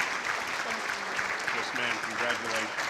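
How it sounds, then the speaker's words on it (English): An audience at a sports Hall of Fame induction ceremony applauds an inductee with sustained, even clapping across the room, while voices and cheering carry faintly underneath. "more big round of applause for Peace?"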